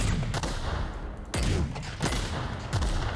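Heavy automatic weapon fire in the video game The Outer Worlds comes in about four loud, rapid bursts with short gaps between them, with no one talking.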